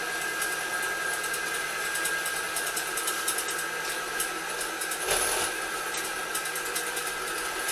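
An electric mixer blends cream cheese frosting with a steady, fairly loud whirring drone throughout, with a brief louder surge near the end.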